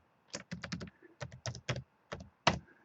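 Computer keyboard typing out a password at a sign-in screen for secure email: a few bursts of quick, close key taps with short pauses between them, ending on one firmer keystroke, no voices.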